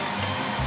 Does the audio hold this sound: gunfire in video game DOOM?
no